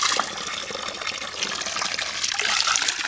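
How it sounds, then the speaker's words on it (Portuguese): Mineral water from a spring well running constantly, a steady close gushing and splashing rush that fills the whole stretch without pause. "Mas a água corre aqui, ó, de noite sem parar."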